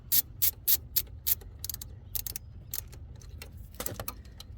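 A ratchet wrench clicks in quick bursts while tightening the EGR valve bolts on a 2014 Mercedes Sprinter-based Leisure Travel Vans Unity motorhome, sharp close pawl ticks at first, then softer, fainter ratcheting, with no talk.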